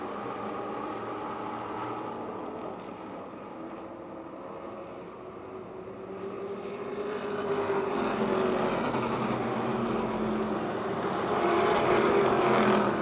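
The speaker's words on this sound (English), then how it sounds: "Knight slides the car just a bit through turn 1" Race cars at Motordrome Speedway roar around the track, a continuous engine drone that swells and builds toward the end as cars come closer, heard at a distance without commentary.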